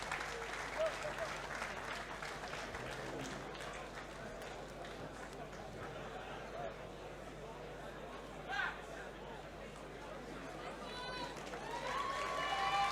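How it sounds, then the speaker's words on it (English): A crowd at an FSC25 fight at Indigo at The O2 in London applauds and cheers steadily under a commentator's voice, the noise swelling louder near the end. "That's great support there from the crowd here at the Indigo, the O2."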